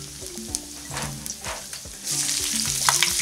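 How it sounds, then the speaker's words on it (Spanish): Garlic cloves dropped into hot oil for a paella with anchovies and clams, a close sizzle with faint clinks that swells into a louder, brighter crackle partway through. "Bueno, echamos los ajos. Que se frían"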